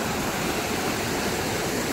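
A waterfall in Odisha roars as a continuous broadband rush of falling water, steady and enveloping with no breaks and no voices.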